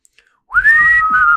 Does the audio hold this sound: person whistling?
yes